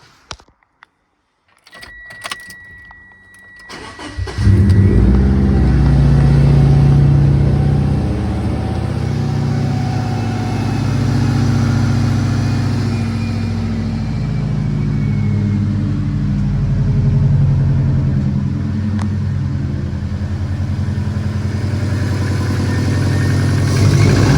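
Following an engine swap, the car's engine cranks with a few clicks and rattles, catches, and settles into a steady, loud, smooth idle.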